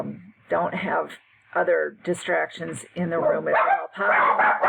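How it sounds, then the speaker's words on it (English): Several dogs bark and yip in short bursts in the room, partly under a woman's steady speech during a home-learning lesson. "Sorry about the dogs."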